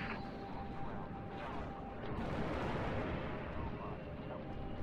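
Spacecraft cannons in Halo Reach blaze in a dense, continuous barrage of rapid fire and rumbling blasts, steady and loud throughout, with voice chatter mixed in.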